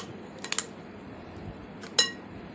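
A spoon clinks against a dish a few times while mango glaze is spread on a cake, with two sharp metallic taps near the start and one bright clink later over quiet background.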